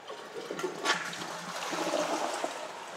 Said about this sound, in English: this toilet uses siphon flushing together with triple instantaneous impulse technology